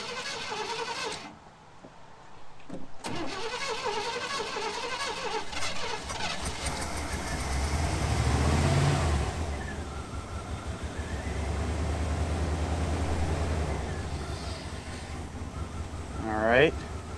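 An old, long-forgotten Chevy truck engine cranks and catches, then runs with a rough, rising rumble that surges in revs, with a brief sharp whine near the end, heard fairly close over outdoor background.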